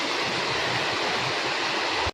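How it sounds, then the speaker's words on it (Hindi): Heavy rain pours down in Mathura, a steady dense broadband roar with no breaks, loud and close, flooding an open ground into a pond. "अभी बारिश हो रही है, बहुत तेज हो रही है मथुरा में।"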